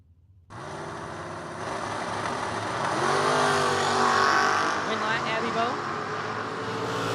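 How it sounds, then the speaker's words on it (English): Drag race launch between a Chevrolet Camaro and a Chevy II: engines roar up from near silence into a loud, sustained rising wail of acceleration with a commentator talking over it. "Abby Bohannon now left side, dialed 641 in her Camaro"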